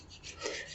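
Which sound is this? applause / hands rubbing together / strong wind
hands rubbing together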